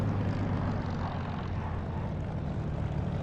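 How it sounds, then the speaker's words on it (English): A steady, droning aircraft engine in a flight simulator rumbles loudly and continuously with a low, full hum, engine sound reflected off the runway, no voices present. "you get reflected engine sound off the runway, which is a nice touch"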